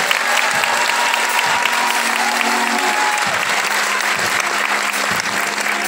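Concert audience applauding during a band introduction in Cieszyn, dense steady clapping from a large crowd that fills the whole span, with brief bursts of cheering mixed in.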